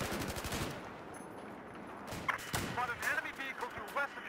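Light machine gun fire in Battlefield 4 cracks out in a rapid burst, then scattered shots and bursts follow at moderate distance, with some game noise between them.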